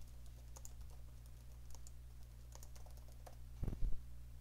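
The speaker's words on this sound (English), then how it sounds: "Make sure you don't have any typos when you type this in." Typing on a computer keyboard while entering a chart title in an Excel 2019 spreadsheet: scattered light key clicks with a brief louder burst of keystrokes near the end, close and alone without speech.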